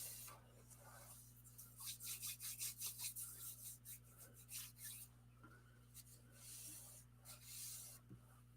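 Rapid back-and-forth rasping strokes, close and soft, come in bursts with short pauses, as a nail file scrapes over paper.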